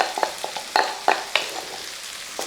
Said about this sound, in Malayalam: ഇനി ഇതൊന്ന് ഇളക്കി